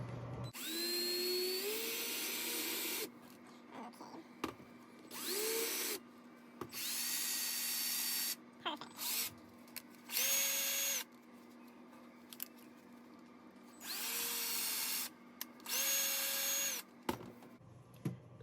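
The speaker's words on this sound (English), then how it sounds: "So we have our power tool here" A power drill whines in several short bursts, spinning up and stopping repeatedly with quiet gaps between, close and loud.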